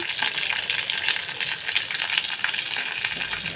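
Loud crackling sizzle of tempering spices and asafoetida frying in hot oil, continuous and close, with no talking.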